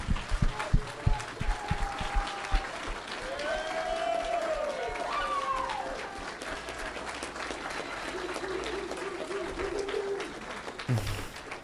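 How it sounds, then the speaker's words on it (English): Audience applause for speakers after a Destiny versus Nick debate stream, steady broad clapping sustained for about eleven seconds, moderately loud, with scattered voices and whistle-like tones over it. "please join me in giving a round of applause for our speakers."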